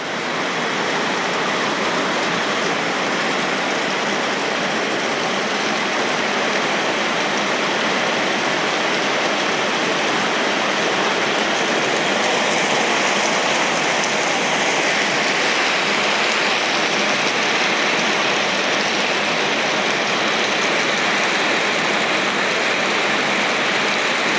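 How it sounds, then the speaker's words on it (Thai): Heavy rain drums densely and steadily on a crate, a loud continuous hiss of many drops with no breaks, close and unaccompanied by any voices. "เม็ดฝนเริ่มหนาขึ้นนะครับ ฟังจากเสียงตกใส่ลังค่านะครับ"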